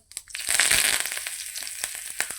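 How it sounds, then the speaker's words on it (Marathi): Mustard seeds crackle and pop in hot oil with asafoetida and curry leaves, a close burst of sharp spitting that settles into scattered pops. "त्यावर राई राई चांगली तडतडून घ्यायची"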